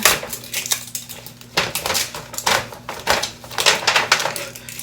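Cheap thin metal dollar-store pans clatter and clink as they are handled up close, a run of irregular sharp metallic knocks and scrapes with brief pauses, no talking.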